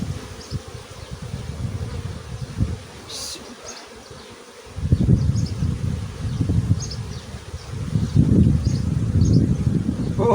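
Honeybees hum at an opened hive while frames are added for expansion, a steady close buzz that swells louder partway through, with faint rustling and a distant bird.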